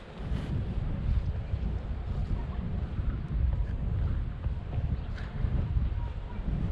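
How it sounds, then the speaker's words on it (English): Steady outdoor wind in a park buffets the microphone with a continuous low rumble and gusty roar, no voices over it. "It's so windy"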